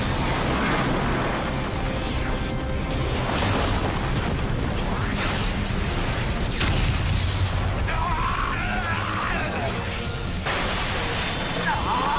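A loud, dense burst of crashing and booming effects filling the whole stretch, with voices shouting over the noisy, continuous blasts.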